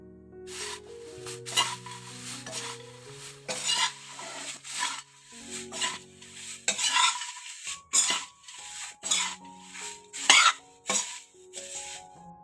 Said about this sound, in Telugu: కొంచెం ధనియాల పొడి, కొంచెం కారం పొడి వేసి కలుపుకుందామండి